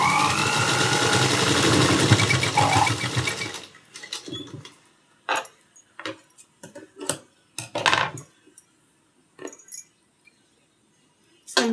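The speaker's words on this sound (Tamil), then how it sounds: "அப்படியே திருப்பி இன்னொரு தையல் போட்டுக்கோங்க" Sewing machine stitching a blouse front cup, running steadily and loudly for a few seconds and then stopping, followed by scattered short bursts, clicks and handling noises of fabric and scissors.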